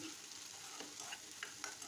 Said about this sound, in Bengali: আবার নেড়ে চেড়ে দিচ্ছি